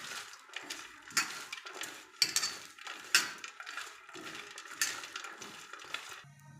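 Bitter gourd being mixed by hand with salt and turmeric in a bowl, giving a steady run of soft wet squelches and scrapes with sharper clinks against the bowl at irregular moments, close and moderately quiet.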